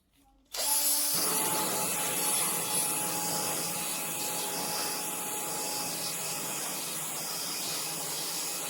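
An electric detail sander runs at a high speed setting against wood, starting abruptly and then holding a loud, steady buzzing whine with gritty rubbing, close and uninterrupted.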